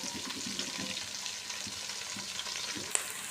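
Sliced onions sizzling and frying in a pan, cooking as the base for an ilish fish curry, a steady soft crackle with occasional stirring scrapes and no talk.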